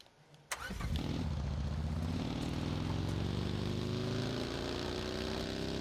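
A vehicle engine in the battle royale game PUBG on the Erangel map cranks to life with a sharp click, then settles into a loud, steady idle with a rising harmonic drone that holds unbroken for several seconds.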